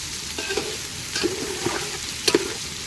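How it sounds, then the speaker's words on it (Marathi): Onion fries in a pan toward golden with a faint, low sizzle, and a spoon or spatula stirs and scrapes now and then with a few soft clinks, all close by and without talk. "आता कांदा आपल्याला व्यवस्थित असं शिजून घ्यायचा आहे एकदम सोनेरी कलर येईपर्यंत"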